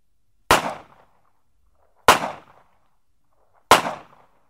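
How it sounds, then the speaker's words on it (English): Three sharp, loud gunshots from a CZ 83 pistol fired without a suppressor, evenly spaced about a second and a half apart, each a crisp crack with a short decaying tail, in an otherwise quiet setting. "The experts recorded a series of gunshots. This is the CZ no suppressor."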